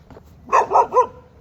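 A dog barks three times in quick succession, loud and close, after a faint short yip at the start.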